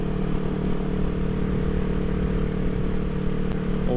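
A 1975 Honda CB360T motorcycle engine runs steadily while riding, a loud, close, continuous mid-pitched drone with a constant tone and no talk.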